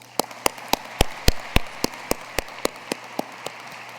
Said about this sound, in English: Let's give a round of applause to our wonderful students.